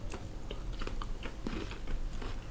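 Close, soft bites and chewing of bread topped with crunchy Dutch fruit sprinkles (vruchtenhagel), a steady run of small crisp crunches with no talking.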